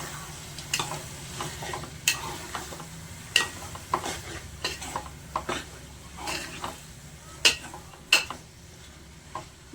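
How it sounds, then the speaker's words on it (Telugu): Boiled beans stirred and frying in a pan for a Telugu beans curry: a steady low sizzle under repeated sharp scrapes and clinks of a spoon against the pan, no talk. "బీన్స్ వేసాం కదా ఒక పది నిమిషాలు బాగా ఫ్రై కావాలి చేసుకుందాం"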